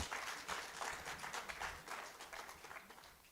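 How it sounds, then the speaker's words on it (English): Steady applause from a conference audience of directors and company secretaries, fairly distant and soft, with continuous overlapping claps throughout. "let's give her a round of applause again"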